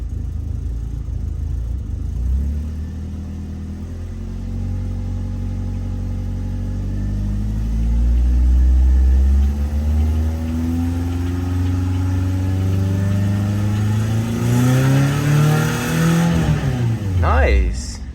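BMW E36 Compact with an M4x four-cylinder engine, needing an idle control valve, revs close up as the pedal is gently feathered; its pitch climbs steadily and drops sharply at the end.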